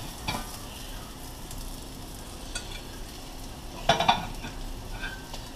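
Crappie fillets frying in a pan at home, a steady soft sizzle running throughout with a few brief utensil clinks and scrapes near the middle.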